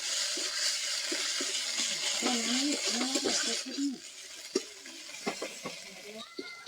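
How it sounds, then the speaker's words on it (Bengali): Onions frying with ginger-garlic paste in a pan, a steady hiss of sizzling oil with soft stirring clinks and scrapes, while someone talks over it. "আদা রসুন বাটা একসাথে দিয়ে দিব ভালো করে ভেজে নেব"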